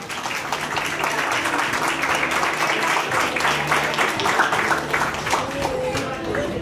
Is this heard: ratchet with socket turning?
no